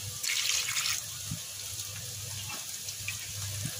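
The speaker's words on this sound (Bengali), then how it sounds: "এবার ঝোলের পানি দিয়ে দেব" Water is poured into a pan of cooking meat curry to make the gravy: a short, loud splashing gush at the start, then a quieter bubbling simmer.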